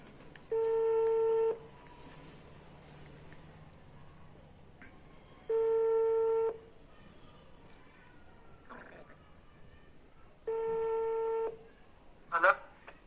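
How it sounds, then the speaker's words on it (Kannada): A mobile phone calls a friend: a few quick keypad tones, then three evenly spaced ringback tones about five seconds apart, loud against a quiet room with faint background noise. "ಇವಾಗ ಅವ್ನು ಫೋನ್ ಮಾಡ್ತೀನಿ"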